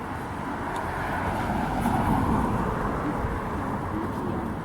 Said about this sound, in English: Is that car coming? Is that driving down Astor?